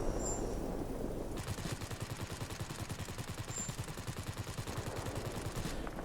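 Rapid sustained machine-gun fire from a Blenheim Mk IV in World of Warplanes, a dense rattling stream of shots over a constant engine drone, lasting several seconds before cutting off.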